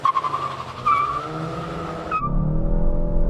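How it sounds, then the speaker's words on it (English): A VW Golf GTI runs up and slides into a handbrake skid, its tires giving a sustained high squeal before cutting off into a low, rough engine rumble, close and loud with no talking. "That's why a manual handbrake is always better, you see, like this one here, so you can do skids."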